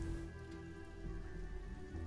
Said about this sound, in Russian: Дождь еще идет.